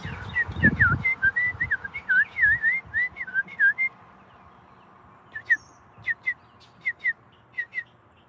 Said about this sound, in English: I just know it's a bird. And he's making every noise in the book.